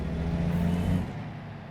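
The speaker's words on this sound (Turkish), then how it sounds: "Konta açıp aracımızı çalıştıralım" A truck engine in American Truck Simulator starts up with a loud, deep, steady rumble for about a second, then drops to a quieter idle. There is no talking.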